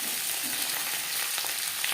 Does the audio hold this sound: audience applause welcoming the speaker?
no